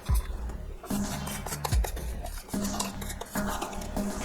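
Semolina stirred into boiling water in a pan for rava kesari, a spoon scraping and clinking against the metal in quick, repeated strokes, close and fairly loud with no talking.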